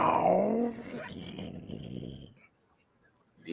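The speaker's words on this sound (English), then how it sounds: "Had to add that extra growl in there." A growl sound effect added during a football preview show, a deep rough rumbling growl that starts loud and close, fades over a couple of seconds and drops into near silence.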